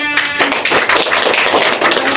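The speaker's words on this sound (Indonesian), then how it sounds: "Oke, beri tepuk tangan." Students in a classroom clap together, a dense burst of many hands clapping that starts after a brief voice and continues steadily and close for the rest of the moment.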